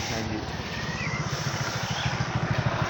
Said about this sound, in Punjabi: ਸੁਬਾਹ ਸੁਬਾਹ ਮੋਟਰਸਾਈਕਲ ਭਜਾਈ ਫਿਰਦੇ ਨੇ ਪਿੰਡੇ